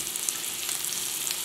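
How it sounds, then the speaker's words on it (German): Potatoes with chopped parsley sizzle steadily in a frying pan as they are tossed back and forth, a close, even hiss of hot fat with no voices. "Die Kartoffeln werden noch in der Pfanne hin und her geschwenkt."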